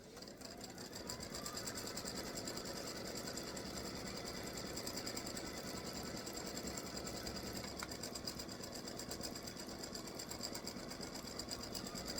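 Embroidery sewing machine stitching a freestanding lace hibiscus earring, a continuous fast rhythmic stitching drone with steady motor hum, close and even throughout, with no voices.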